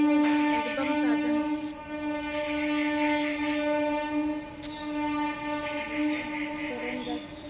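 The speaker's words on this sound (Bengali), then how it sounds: "ট্রেন যাচ্ছে" A train rolls past with a loud, sustained horn blaring over the rumble of the wagons, the tone swelling and fading twice.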